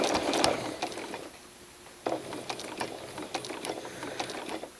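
Sewing machine stitching a straight quilting line guided along a ruler, a quiet mechanical whir with a sharper burst near the start and another at two seconds, then steady faint clicking runs.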